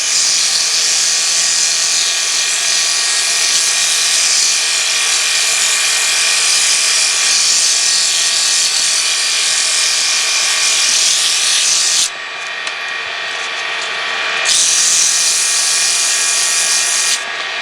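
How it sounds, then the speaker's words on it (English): Steady, loud abrasive rubbing with a whirring hum, sandpaper pressed against wood turning on a lathe, continuous with a brief dip in brightness near the end. "so you need to change the spot you're sanding"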